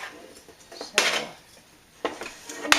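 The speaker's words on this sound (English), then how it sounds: "let me give it a stir" A pot of roasted vegetable curry with shiitake mushrooms and plenty of vegetables gets stirred. Three brief bursts of metallic clatter and scraping stand out against near silence.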